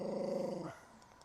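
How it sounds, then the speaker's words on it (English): A dog in rural Serbia gives a long, droning growl-bark that holds its pitch for more than half a second, then cuts off, leaving faint background sound. "why don't we take a moment to listen to this dog with that truly hilarious bark?"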